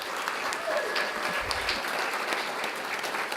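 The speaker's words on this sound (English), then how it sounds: "Let's hear one final round of applause for all of our winners" Steady audience applause for award winners at a Mexican American cultural center's excellence awards, many hands clapping continuously at even volume.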